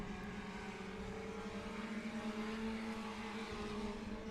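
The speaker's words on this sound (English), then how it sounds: "As you can see, the IMCA Sport Compact 4-cylinder style cars on the racetrack now." IMCA Sport Compact four-cylinder race cars running on a raceway during open practice, a continuous droning engine tone at a distance, steady and unbroken.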